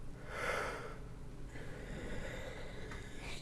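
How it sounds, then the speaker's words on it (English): A big drawn-out human yawn, breathy and close, rises and eases off over a few seconds against a murky room background. "Excuse me, big yawn."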